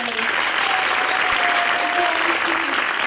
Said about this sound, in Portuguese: Por favor, muitas palmas para a minha mamãe!